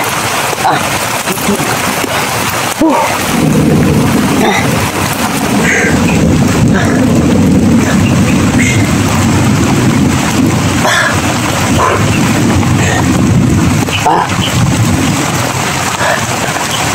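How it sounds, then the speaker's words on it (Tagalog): Heavy rain pours down in a dense, continuous hiss, with a low rumbling undertone and occasional louder bursts; no voices stand out. "sobrang lakas ng ulan"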